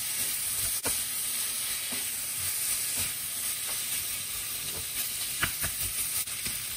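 Soya meat cooks slowly over low heat, a steady soft sizzle and faint hiss carrying through, broken by a few light clicks and stirring scrapes.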